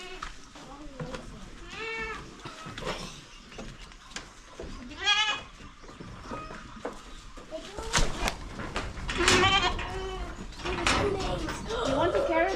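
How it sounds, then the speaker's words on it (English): Baby goats bleating on a farm field trip in the Philippines, several wavering bleats from near and farther off, with people talking around them and the calls growing denser toward the end. "Baby goat."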